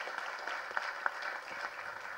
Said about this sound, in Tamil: இந்த நேரத்தில் கருணா சாருக்கு நல்ல மிகப்பெரிய கரகோஷம் கொடுங்க, இந்த அரங்கமே அதிர மாதிரி கொடுங்க